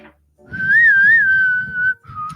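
Someone whistles a wavering tune close and loud, holding a long sustained note and then a short final one, with soft breathy noise beneath.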